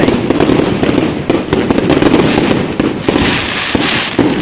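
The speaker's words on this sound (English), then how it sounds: "It's like they're firing off a gun or something." Christmas fireworks explode in a dense, loud barrage, rapid crackling bangs and booms tumbling over one another continuously and close by, with no gaps.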